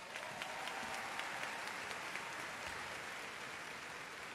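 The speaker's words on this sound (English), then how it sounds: "Let's give her another round of applause" Sustained applause from the audience at a high school graduation, an even wash of many hands clapping at a soft, distant level.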